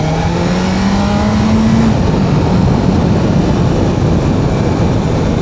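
A 2025 BMW S1000RR sportbike in its break-in period pulls away loud and close, its engine note climbing for a couple of seconds before dissolving into a constant rush of wind roar.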